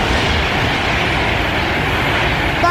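Two trains rushing past each other in opposite directions, a loud, steady, close roar of rolling wagons filling the whole stretch without a break.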